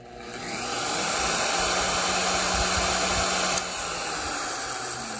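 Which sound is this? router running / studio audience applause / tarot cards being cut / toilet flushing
router running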